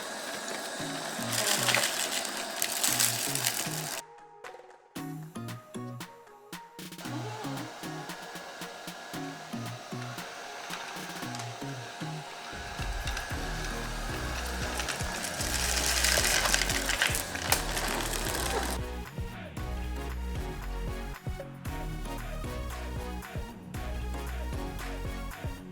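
Eureka Groove robotic vacuum running over an area rug, hardwood and ceramic floors strewn with glitter and washi tape, giving a steady whirring suction drone with scraping and rattling from debris. It plays continuously, loud and close, with no talking.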